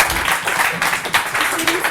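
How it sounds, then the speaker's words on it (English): Audience applause at an open mic event, a steady wash of clapping from a crowd filling the room, fairly close and even throughout with some voices mixed in. "Everybody give a big round of applause for Brian."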